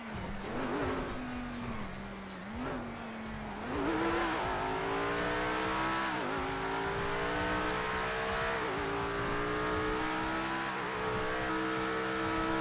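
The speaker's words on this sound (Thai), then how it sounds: "โคตรแรงเลยรถเนี่ย" A video-game car engine revs hard and races, its pitch dipping and climbing through several gear changes before settling into a loud, sustained high whine, with brief tire-squeal-like sweeps.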